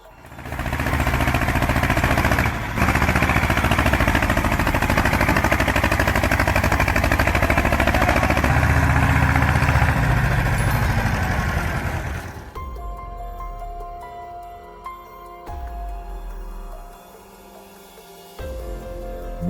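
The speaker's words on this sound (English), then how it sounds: "The bog's tractor escapes the mud's grip in seconds." A tractor engine roars loud and steady as it strains to pull free of a boggy mud patch. After about twelve seconds the roar cuts away to quieter, uneven rumbling.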